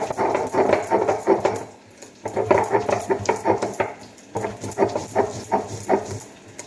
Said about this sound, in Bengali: আদাগুলো বেটে নিচ্ছি, আদাগুলো বেটে নেব।